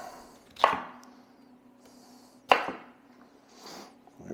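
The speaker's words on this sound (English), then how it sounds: "So I'm just going to cut off 1-inch chunks here." A knife chops a sweet potato into one-inch chunks on a cutting board, two sharp distinct chops about two seconds apart with faint handling noise between, no talk.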